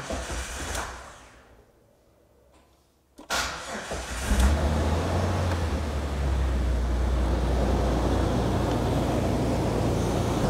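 A car engine on a weak battery cranks slowly after a quiet pause, then catches and settles into a steady, loud idle that runs on without a break.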